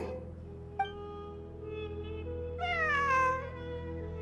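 A cat meows in the video game Genshin Impact during desert exploration in Sumeru, two distinct meows, a short one then a longer drawn-out one, over a low steady ambient background.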